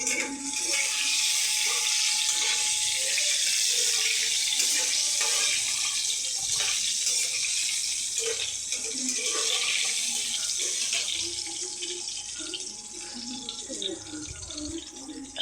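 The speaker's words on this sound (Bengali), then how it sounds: "আমি ডিমগুলো ছেড়ে দিয়েছি ভাজার জন্য" Duck eggs frying in oil in a pan give off a loud, steady, hissing sizzle that holds for the whole stretch with little change.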